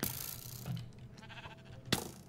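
Sheep in the game Minecraft bleat in a couple of short calls amid faint background noise, one clearer call near the end.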